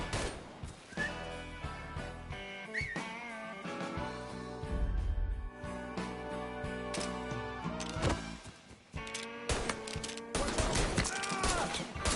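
Gunfire in the video game Mafia 3, rapid bursts of shots layered over music and battle noise, loud and dense throughout.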